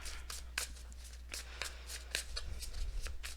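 Tarot cards are shuffled by hand in quick riffling bursts, a series of crisp papery flicks and slaps repeating every fraction of a second, close up over a low steady hum, with no talking.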